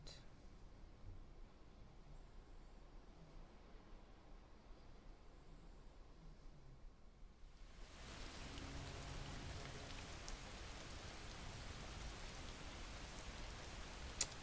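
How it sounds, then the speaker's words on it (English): After several seconds of near quiet, steady video game rain suddenly starts and continues as an even, hissing downpour. "It's the sideways rain of the PNW."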